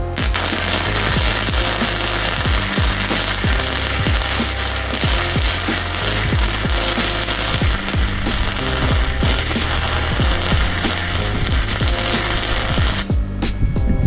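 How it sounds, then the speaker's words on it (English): A 120 volt wire feed welder joins steel practice pieces, giving a loud, continuous crackling buzz with irregular pops and spatter that carries on without a break for most of the stretch. "It's a 120 volt wire feed welder."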